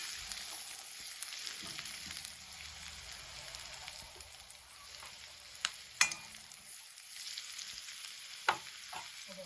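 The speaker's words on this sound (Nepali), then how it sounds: "यसमा राख्दैछु लसुन।" Garlic frying in a pan for keema noodles gives a soft, steady sizzle close by, with a couple of sharp clicks from utensils against the pan.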